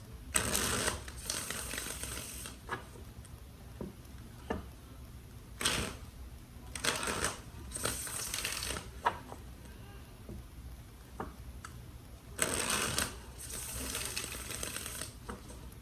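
Tarot cards are shuffled in repeated riffling bursts, each lasting about a second, with quiet gaps between them and a few sharp taps scattered through.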